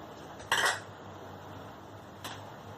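Stirring pumpkin curry soup in a pot: a spoon knocks sharply against the metal once, then a quieter second clink follows over a low, steady background hum, no talk.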